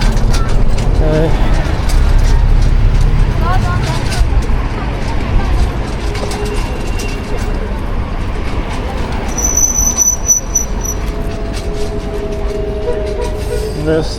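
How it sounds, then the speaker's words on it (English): Trains moving in a train garage near the Dalian harbor area, a loud, continuous rumble of rolling wagons with occasional wheel squeal, with voices audible on the street. "This is the train garage"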